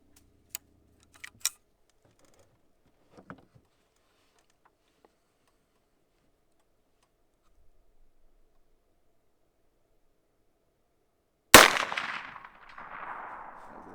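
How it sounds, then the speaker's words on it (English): A scoped Heritage Rancher rifle firing a light 30-grain bullet at 200 yards: after long near-silence broken by a few faint clicks and handling taps, one sharp, loud shot cracks close by and rings out as it fades. "This is fun out at 200 yards. We're definitely getting some connections."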